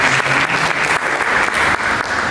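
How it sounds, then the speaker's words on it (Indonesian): Steady applause from a church congregation, dense clapping that stays loud and even throughout. "Mari kita berikan tepuk tangan yang mulia Yesus."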